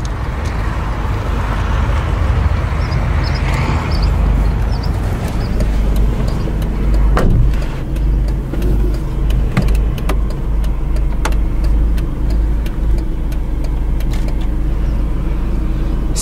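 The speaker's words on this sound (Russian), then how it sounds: "Сейчас самое интересное, как звучит двигатель." 2010 Mercedes-Benz A180 W169 engine running, a loud steady low idle hum with faint clicks, close to the car and heard alone for about sixteen seconds.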